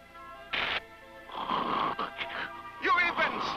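A character in a 1966 Linus the Lionhearted cartoon snores in short, rasping, voiced breaths, repeated several times in a quiet scene, with a voice actor producing the snores.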